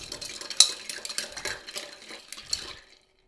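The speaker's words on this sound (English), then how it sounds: "And stir this down so that ice works its magic." A lavender old fashioned with bitters is stirred over ice in a glass, giving quick, bright clinks and rattles of ice against the spoon that taper off into quiet.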